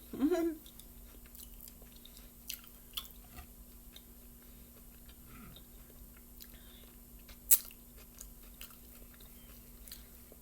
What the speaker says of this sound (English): I cut a steak really thin because that helps me chew it better.